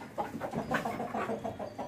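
Several Kadaknath black chickens clucking close by at a farm, a steady run of short, low clucks with no talking.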